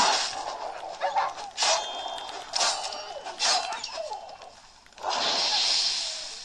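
Dogs bark in The Witcher 3 on Nintendo Switch, giving a series of sharp, evenly spaced barks at mid-distance over ambient game noise, which ends in a louder noisy burst.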